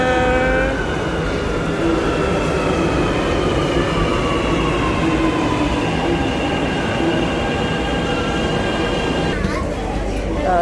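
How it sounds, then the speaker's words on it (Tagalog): A train pulls into a station with a loud, continuous rumble, its wheels giving a long high squeal that slides in pitch. Voices are heard beneath the noise. "Parating ng train."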